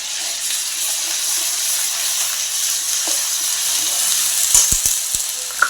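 Ginger garlic paste sizzles in a pan over sautéed onions, a steady loud hiss of frying with a few sharp utensil clicks near the end.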